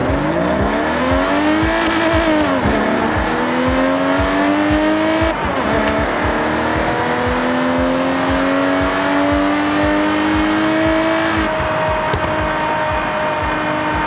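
A straight-six car fitted with a sport exhaust revs hard in Forza Horizon 6, its engine note climbing repeatedly through rising sweeps with brief breaks between gear changes, loud and close throughout.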